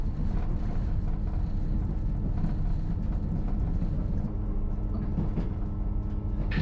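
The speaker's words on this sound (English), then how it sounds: "I'll turn up the train sound so you can enjoy it too." Train running on the Kyle of Lochalsh line during Storm Babet, a steady low rumble and rattle heard from inside the carriage, continuous and fairly faint, with no voices.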